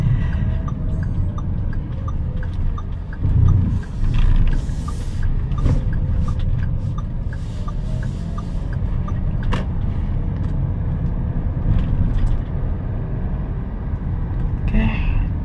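A Daihatsu/Toyota Rocky 1.2 X manual car being driven in Indonesia: a steady low engine and road rumble runs throughout, with light clicks and brief bumps over the drive and no talking.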